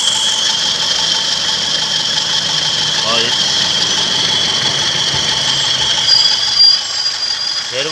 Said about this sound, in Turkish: bakın şöyle motor sesini duyuyorsunuz